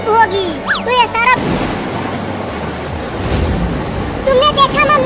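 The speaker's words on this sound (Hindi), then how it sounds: "देखो कितनी तेज बारिश हो रही है" Heavy rain pours down as a loud, dense rushing noise, framed by voices talking at the start and end.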